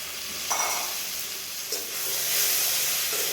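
Chopped pond-farmed crabs hit a hot pan for a sour okra dish, setting off a loud, steady sizzle and hiss that swells toward the end, with no talking.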